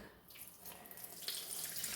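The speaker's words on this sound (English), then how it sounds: "And then you pour the water in there." Water pours steadily into a container for making coconut cream, a continuous broadband splashing stream that brightens and grows fuller toward the end, close and alone with no voices.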